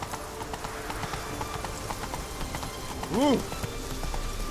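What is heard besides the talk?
horse Roach galloping in video game The Witcher 3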